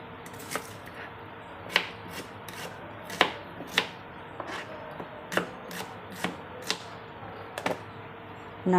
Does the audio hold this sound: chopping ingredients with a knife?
yes